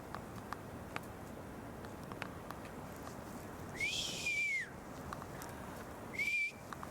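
Two short rising whistles sound over quiet outdoor background noise, the first a bit longer, a couple of seconds apart.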